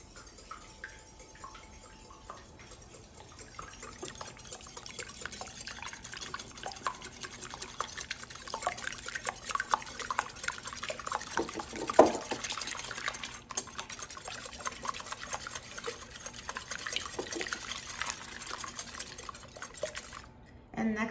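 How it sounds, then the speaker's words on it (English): Eggs being whisked in a bowl for a chocolate chess pie, a steady stream of soft clinking and sloshing strokes that carries on throughout at moderate volume, with no voices over it. "And whisk the eggs."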